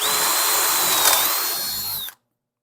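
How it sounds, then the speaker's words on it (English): A power drill with an 11/64 bit bores a hole during a 1976 Monarch restoration, a loud, steady high whine for about two seconds that stops abruptly as the bit breaks through. "I'm just going to drill it"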